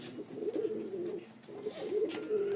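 Benarasi Lotan male pigeon cooing nearby in a continuous low, wavering rumble that swells and dips over a couple of seconds.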